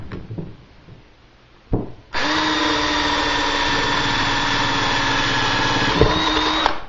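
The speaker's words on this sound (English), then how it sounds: "you can see the surrounding, how that saw blade is starting to cut through" A hole saw in a drill bores through a plexiglass arcade cabinet cover for a Mortal Kombat machine, running as a loud, steady whine after a few faint knocks and a brief start, with no talk.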